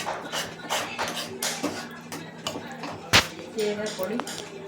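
Pulihora, tamarind rice tossed with curry leaves, turmeric and oil, being mixed by hand in a metal vessel, giving repeated scraping and clinking knocks of rice against the pot, close and moderately loud, with a few sharper taps.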